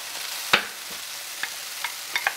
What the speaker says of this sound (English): Okay, our onions and green pepper sauteed here. So what I'm going to do is I'm going to add the rice.